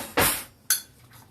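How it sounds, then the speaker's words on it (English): Metal cutlery clinks twice against dishes in a home kitchen while a spoon is fetched to stir a pot of creamed chicken, two sharp, close chinks about half a second apart. "Let me get another spoon for this to make sure I got the bottom stirred"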